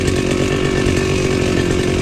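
A motor grass cutter runs steadily in a farm field, a loud continuous buzzing engine drone with a rough, even pulse and no talk.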